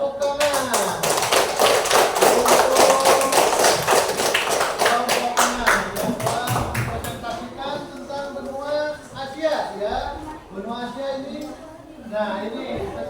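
Audience applause at the end of a classroom presentation: a burst of dense, rhythmic clapping for about seven seconds, then fading as a voice begins speaking.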